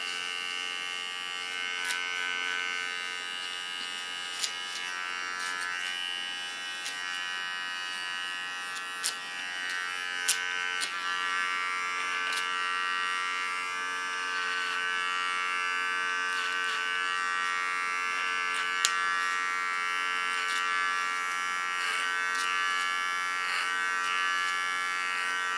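Small electric hair clipper cleaning up a hairline contour, a steady close buzzing hum that runs unbroken throughout with faint clicks of handling, no voices.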